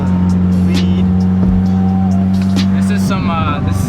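Nissan 350Z with skids pulling out for a test drive, its steady engine drone loud and constant throughout, with a tire squeal and brief rev changes near the end.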